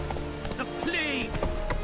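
Horse hooves clip-clopping at a run in The Witcher 3: Wild Hunt, a quick uneven patter heard under game voices and background music, with a short whinny-like sweep in the middle.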